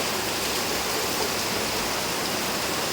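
Heavy rain pours down in a dense, unbroken hiss during a monsoon downpour in Maharashtra, loud and steady from start to finish with no voices.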